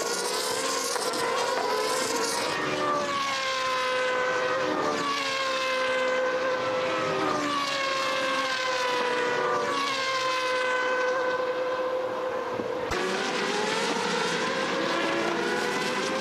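GP2 race cars in a 2005 race at the Nurburgring scream past one after another, each high-revving engine whine swelling and then dropping in pitch as it goes by, with no voices over it.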